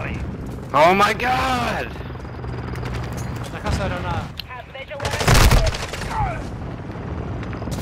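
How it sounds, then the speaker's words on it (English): Explosions from an enemy airstrike in a first-person shooter video game, a loud burst of blasts and gunfire around the 5-second mark amid ongoing game noise, with excited players talking and shouting over it. "Enemy airstrike incoming."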